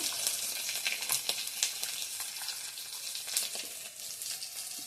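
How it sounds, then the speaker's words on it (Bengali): Whole panch phoron spices hit hot oil in a pan already holding dried fish and ginger, giving a steady, close crackling sizzle with scattered sharper pops throughout, no voices. "একটু পাঁচফোড়ন মশলা দিয়ে দিলাম।"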